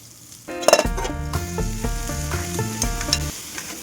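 Sliced bitter gourd and onion hit hot oil with garlic and ginger and sizzle loudly, then keep frying steadily while being stirred, with occasional clinks against the pan.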